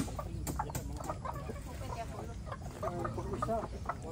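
A Texas breed rooster clucks in short repeated calls outdoors on a farm, moderately close, with someone talking over much of it and steady background noise.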